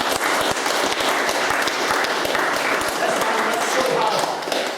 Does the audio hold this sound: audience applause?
yes